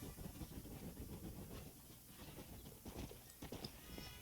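Rhythmic clip-clop of horse hooves at a steady gallop in the video game Red Dead Redemption, faint and continuous over a soft hiss, with no talking.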